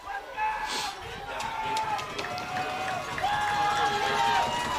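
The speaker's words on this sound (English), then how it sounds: "Everybody is screaming." Football crowd screams through an overtime field goal attempt, a loud continuous roar of voices with shrill yells rising above it, building slightly toward the end.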